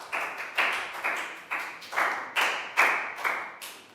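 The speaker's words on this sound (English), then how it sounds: "Big round of applause," A small classroom group claps in a round of applause, with about eight distinct, loose hand claps spaced fairly evenly, each sharp and close, with no talking.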